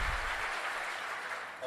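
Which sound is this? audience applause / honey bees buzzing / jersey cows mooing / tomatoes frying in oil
audience applause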